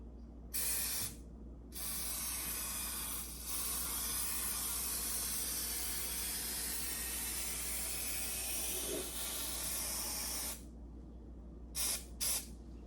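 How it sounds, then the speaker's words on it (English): Long hissing bursts of aerosol spray inside a 1972 VW Super Beetle during headliner padding work, several presses in a row with short pauses and a couple of quick final spurts, close and fairly loud. "I'm going to spray this on and let it set up a little bit."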